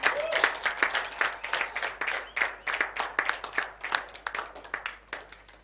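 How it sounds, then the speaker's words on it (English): An audience applauds at a ceremony congratulating a woman on a world-record attempt in Ghana, a dense run of close, sharp handclaps sustained for several seconds before thinning toward the end. "let's give her a round of applause."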